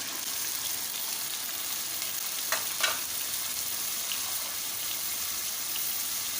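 Cauliflower and tomatoes fry together in a pan for aloo gobhi, giving a constant close sizzle with a couple of brief stirring scrapes partway through.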